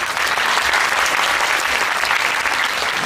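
Steady, dense applause from a school concert audience after a primary school wind band performance, loud and continuous for the whole stretch with no voices standing out.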